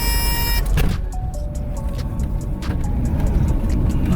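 Jaguar XJ6 on a first drive after a tune-up, its engine a steady, close rumble for about four seconds with a brief higher whine and faint clicks, and no talk.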